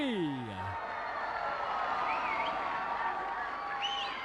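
A crowd at the 1994 Malaysian National Grand Prix Finals cheers and whoops in a sustained roar, with a voice trailing off at the start and scattered shouts rising above the noise.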